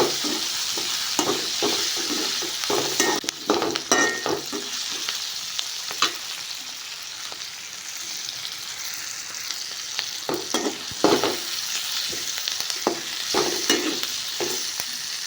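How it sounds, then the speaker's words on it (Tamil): Tomatoes and curry leaves are sautéed in a pan for mango and drumstick sambar, with a steady close sizzle and bursts of rhythmic stirring and scraping. "தக்காளி எல்லாத்தையும் போட்டதுக்கப்புறம் நல்லா வதக்கிட்டு இது 2 நிமிஷம் 3 நிமிஷம் வதக்கணும்."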